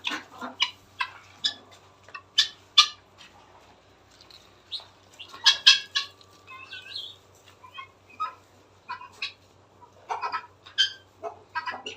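Native ducks in a garden where chickens are also kept give short, scattered quacks and squawky calls in irregular bursts, fairly close and clear over a faint low hum.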